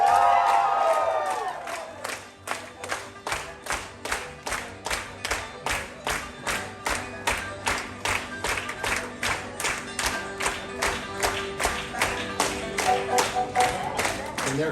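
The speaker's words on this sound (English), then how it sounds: "And they're clapping along." Theme park guests at the Country Bears Jamboree in Walt Disney World clap in steady unison along with the show, rhythmic claps repeating for the whole stretch, with crowd cheering and whoops at the start.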